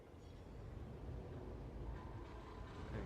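A train rolls steadily along its track in the factory-building game Satisfactory, a continuous low rumble with faint rattling that stays even and fairly loud throughout, with no voices over it.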